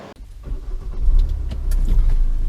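A Ssangyong Korando C with a 2.2-litre diesel engine idles, a steady low rumble with faint clicks and small interior sounds above it.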